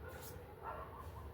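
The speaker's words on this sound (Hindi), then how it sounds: "ये डॉगी बंद क्यों नहीं कर रहे हैं भौंकना" Several dogs bark and yip in the background at low level, their calls faint and mixed under someone speaking indoors.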